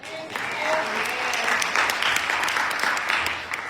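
Church congregation applauding for Esther, a sustained round of clapping from a crowd with some voices mixed in, steady for several seconds.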